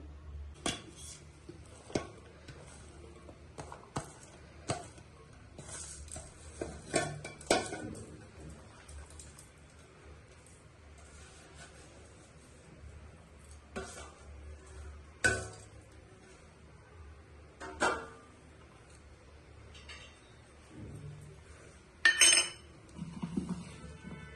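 A spoon clinks and scrapes against a bowl as chopped onion is stirred into a vada batter of chana dal and black-eyed peas, quiet irregular taps with short pauses between them.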